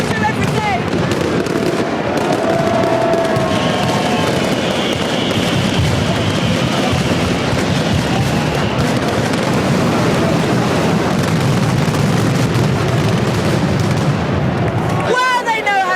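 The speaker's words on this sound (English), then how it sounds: "We've seen the fireworks, we've heard the fireworks, we've felt the fireworks" Dense barrage of fireworks exploding throughout a Spanish city celebration, continuous loud booms and crackles with rumbling low end, dropping out briefly near the end before another burst.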